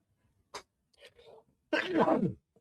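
A single sneeze bursts out after a couple of faint breathy sounds, close and fairly loud in an otherwise quiet room.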